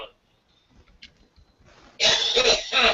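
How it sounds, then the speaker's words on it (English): A burst of loud coughing fills the second half, preceded by faint shuffling and quiet background noise. "Somebody's got a cough"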